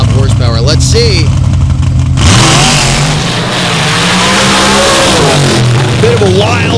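A nitrous-fed dirt drag racing car launches down the track with a loud rising engine roar and pitch sweeps, heard under an announcer's continuous commentary.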